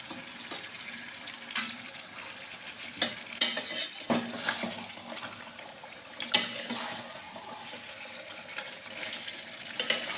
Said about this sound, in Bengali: এই যে এখন চিকেনটা কষানো হচ্ছে চিকেন বিরিয়ানি হবে